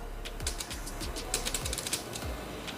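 Keys clacking on a keyboard hooked up to a Motorola phone running Ready For, a quick, uneven run of crisp taps and a few thuds, close by and moderately loud with no talking.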